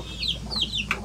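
A few short, high clucks from a baby chicken, close by and moderately loud over a low steady hum, with no one speaking.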